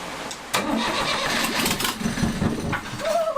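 An engine cranking and turning over under repeated attempts to start, a loud, continuous churning rhythm of starter strokes that sputters and runs without catching, close to the microphone.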